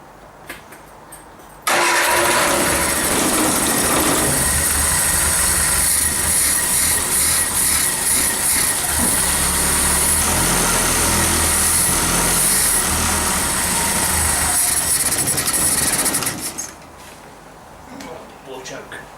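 An old car engine, choked to help it start, cranks and catches, then roars loudly at a fast idle for about fifteen seconds before cutting off abruptly.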